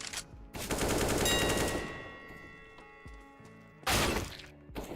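CS:GO video game gunfire: a loud burst of rapid automatic shots rings out, fades with a metallic ring, then a second short burst hits near the end.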